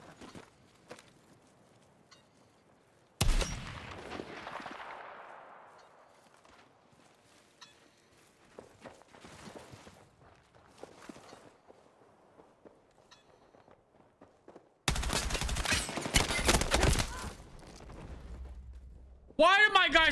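Automatic gunfire in the video game Battlefield REDSEC comes as sudden loud bursts, including a long sustained spray near the end, against sparse in-game sounds, with a voice talking at times.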